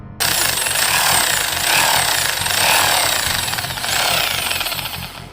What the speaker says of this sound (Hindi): बड़ी बड़ी मशीनों से जोड़ों से ड्रिलिंग चल रही थी